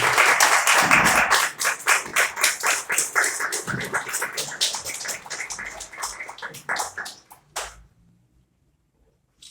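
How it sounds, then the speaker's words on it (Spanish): Strong audience applause at a social commitment ceremony as an award is handed over, loud dense clapping close by that gradually thins into scattered claps and stops abruptly. "Quiero por favor que le demos un fuerte aplauso al maestro Erwin y al licenciado Ricardo"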